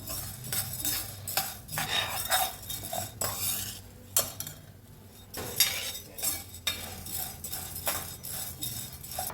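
Idli podi ingredients are dry-roasted and stirred in a pan with a metal spoon, producing repeated close scraping and clinking strokes in an uneven rhythm, with a low background hum and no talk.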